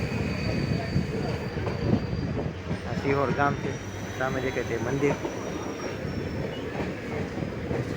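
A train rolls slowly into Sihor junction with rumbling wheels and faint clatter running steadily throughout, while a person talks over it.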